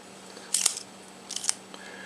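A Minolta-16 subminiature spy camera fires its shutter, giving two short, crisp mechanical clicks about a second apart over a faint steady hum.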